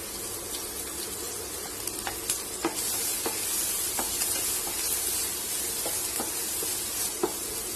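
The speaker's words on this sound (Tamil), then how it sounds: "இப்ப இந்த எண்ணெய் சூடானதும் இந்த பூண்டு இஞ்சி பச்சை மிளகாய் இதை முதல்ல போட்டுடலாம்." Garlic, ginger and green chillies frying in hot oil, a continuous loud sizzle with crackling pops and occasional stirring clinks from the pan.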